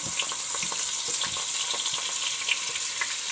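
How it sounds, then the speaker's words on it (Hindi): Ground chana dal frying in ghee, the same ghee used for fox nuts, for a halwa: a steady, bright crackling sizzle with small pops, close and even throughout, no speech. "उसमें ये चने की दाल का ये जो हमने इसको पीसा था, इसी घी में हम डाल देंगे"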